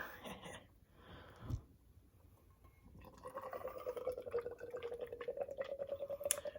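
Guinness Nitro Cold Brew Coffee pours steadily into a glass, a gurgling, bubbling stream growing louder over several seconds after a few soft handling sounds.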